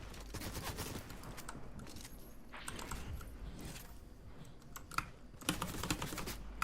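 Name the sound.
gunfire in a video game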